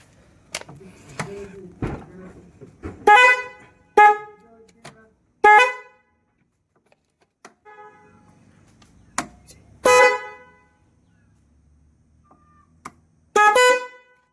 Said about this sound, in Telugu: చూడండి విన్నారు కదా సౌండ్ చాలా లౌడ్గా వస్తుంది హార్న్స్